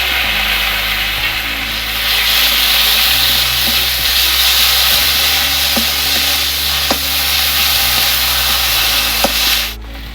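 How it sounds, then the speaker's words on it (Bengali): A steady, loud sizzle of ground ginger, coriander, cumin and onion pastes frying in a pan, with a few sharp clicks from stirring, until the sizzle drops off at the end. "আদা বাটা ধনে বাটা জিরে বাটা পেঁয়াজ বাটা সব দিয়ে দিচ্ছি একসাথে"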